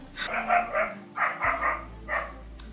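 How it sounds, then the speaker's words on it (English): Two dogs arriving at a home let out short bursts of barking, three clusters of quick yaps spaced over a few seconds, fairly faint and a little distant, no talk over them. "My dad's just turned up with the dogs."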